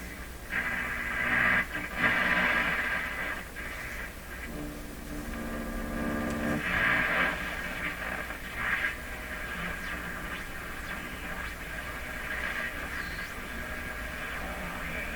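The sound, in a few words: distant AM radio station through static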